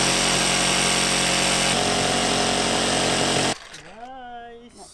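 Power saw cutting plywood for a shelf in a Sprinter van conversion, a loud, steady whine for about three and a half seconds that cuts off abruptly, followed by a voice speaking.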